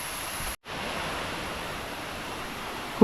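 Water at Kombazha Waterfalls rushes in a steady broadband wash, with one brief dropout near the start and a small knock right at the end.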